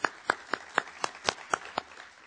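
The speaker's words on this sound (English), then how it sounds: "I'd just like to take a moment to applaud Dr. Yang and his staff" Clapping at a lecture in honor of Dr. Yang and his staff: a few sharp, distinct hand claps land in an even, steady rhythm, then fade out toward the end.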